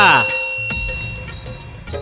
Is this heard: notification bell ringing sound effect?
yes